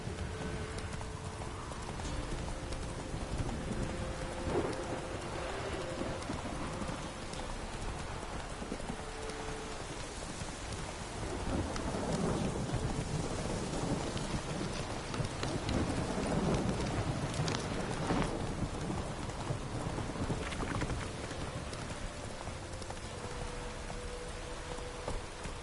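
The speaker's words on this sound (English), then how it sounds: "This downpour's a bastard, it is." Heavy rain pours in a thunderstorm in the game The Witcher 3, a constant dense hiss with low thunder rumbling underneath and horse hooves clip-clopping through the downpour.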